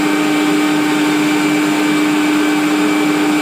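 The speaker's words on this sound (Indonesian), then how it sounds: "Kita kocok menggunakan kecepatan tinggi sampai kaku" Electric mixer whipping cream at high speed: a loud, steady, even motor whine that holds constant throughout, with no voices.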